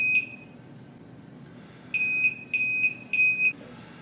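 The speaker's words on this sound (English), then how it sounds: "A high frequency alarm can be selected to activate when 0 or" High-pitched electronic alarm beeps from a 600mm laser level meter signalling a 0 or 90 degree reading: one short beep, then a pause, then three evenly spaced longer beeps, clear over a quiet room.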